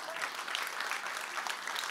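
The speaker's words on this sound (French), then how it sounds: "vous pouvez l'applaudir aussi" Applause from an audience at a peace event in a Paris performance hall, a brief, fairly quiet patter of clapping that stays steady with no voices over it.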